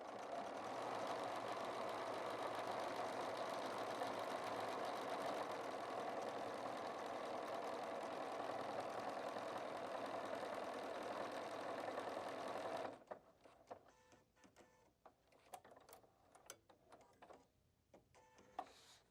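A Bernina 990 sewing machine runs steadily, stitching oversized jumbo stitches with a dense, continuous mechanical whir for about thirteen seconds before stopping, followed by faint scattered clicks and handling noises.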